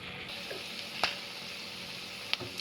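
Thinly sliced green chillies hiss and sizzle in hot oil for egg fried rice, a steady frying crackle broken by a few sharp spatula clinks on the pan.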